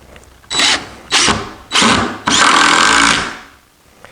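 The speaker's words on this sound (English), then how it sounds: "So now I can go ahead and put the long screws in the top" A power driver sinks long screws into the top of a traditional wooden sawhorse, with three short loud whirring bursts followed by one longer sustained drive, close and alone.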